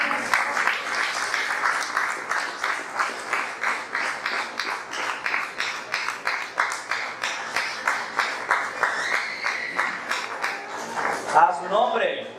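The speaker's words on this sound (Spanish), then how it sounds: "Denle un aplauso a Dios." A congregation claps in a steady rhythmic beat during a church service, roughly two claps per second for over ten seconds, with a voice speaking over the rhythm near the end.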